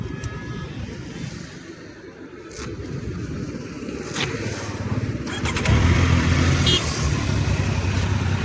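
A vehicle engine idles and then revs up, rising to a louder, steady roar in the second half. Wind or road rush sits over it, and no speech is heard.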